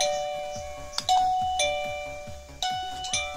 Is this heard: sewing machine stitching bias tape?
no